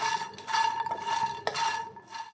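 Laddu mixture cooks on a low gas flame while being stirred, soft scraping strokes against the pan in a few rhythmic pulses over a faint steady hum, close and quiet.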